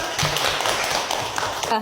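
Students in a classroom clap together in a short burst of brisk, close, uneven hand claps, mixed with a voice speaking.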